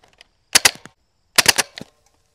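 A coil accelerator fires on auto mode at maximum power, two sharp rapid bursts of three to four loud snapping shots each, separated by a short pause, with nothing else heard.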